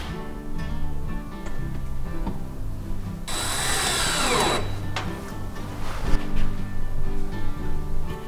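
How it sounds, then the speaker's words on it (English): A power drill drives P2 screws into pre-drilled holes while a Leghorn cottage chicken coop is assembled. One loud whirring burst lasts just over a second, set against steady background music. "P2 screws going into the pre-drilled hole. Getting one in."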